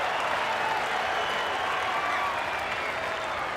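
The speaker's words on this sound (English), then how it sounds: "The crowd goes mad." Roaring rugby league stadium crowd cheering and clapping at a 1997 Balmain Tigers versus North Sydney Bears match after a kick, a dense sustained wash of noise throughout with a commentator's voice faintly underneath.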